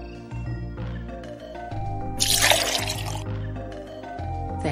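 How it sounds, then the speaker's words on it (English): Tea poured into a cup, a short liquid splash and trickle rising in the middle of the clip over a steady background of music, with no talking. "each of you will get a turn of pouring me a cup of tea"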